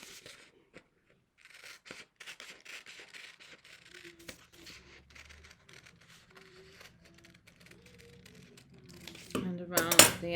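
Scissors snip through fabric around the armhole of a simple A-line yoke, a soft run of close, quiet crunching cuts, while a voice talks throughout and a louder rustle of handling closes it.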